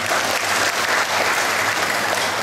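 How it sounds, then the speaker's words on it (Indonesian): Steady, dense audience applause fills a motivational self-improvement seminar hall, a continuous wash of many hands clapping at close range, loud and unbroken throughout with no voices over it. "Kapan itu tepuk tangan ya?"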